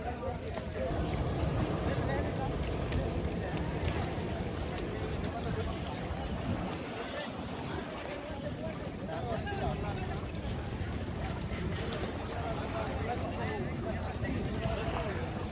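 A fishing boat pulls in to the bank of the Padma River under cloudy, windy skies, its steady broadband rumble blending with wind buffeting the microphone and voices talking throughout.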